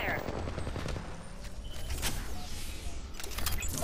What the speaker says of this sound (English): Getting shot at. I'm taking fire.